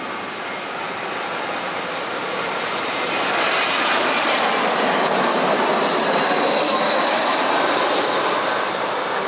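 Airplane flying near an airport, a loud broadband engine roar that swells midway and holds steady, continuous with no talk.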